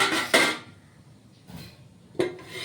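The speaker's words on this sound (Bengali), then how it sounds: "একটা ঢাকা দিয়ে দিলাম যাতে তাড়াতাড়ি ফুটে ওঠে।" A lid goes onto a cooking pot of Bengali fish curry (macher jhol) with a sharp metallic clatter, followed by a softer knock and another clanking contact, near and distinct.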